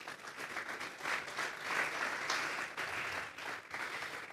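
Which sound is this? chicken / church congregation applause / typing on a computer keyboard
church congregation applause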